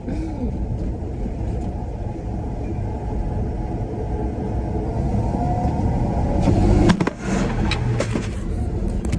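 A 1971 Ford F100 pickup engine roars at full throttle from inside the cab, a loud sustained low rumble that rises and then briefly drops near the end, as if shifting gears.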